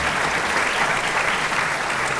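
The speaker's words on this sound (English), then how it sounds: "I want to applaud the families too" Audience of families and graduates applauding at a medical school white coat ceremony, a thick, even wash of clapping from a large crowd that holds steady and fairly loud throughout.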